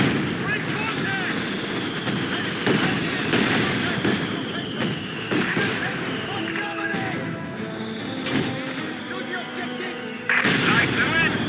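A Flak 43 gun fires in the video game Company of Heroes 2, its repeated booming shots mixed into a busy battle soundscape of other weapons and explosions, with unit voices chattering throughout.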